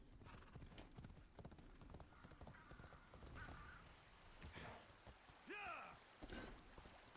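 Horse hooves clip-clopping in an Assassin's Creed game set in ancient Greece, a quiet run of irregular hoof clops with a short whinny near the end over faint ambient noise, distant and soft.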